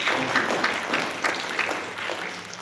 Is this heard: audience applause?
yes